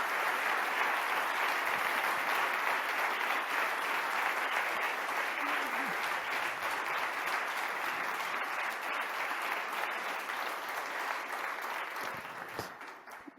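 A long, sustained burst of applause for children, dense even clapping from a sizeable audience that stays loud and steady for most of its length before thinning slightly near the end.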